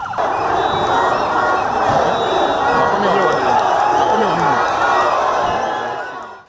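A large crowd cheers, shouts and chants at a nomination day rally in Uganda, a dense, loud, continuous roar of many voices that fades out at the end.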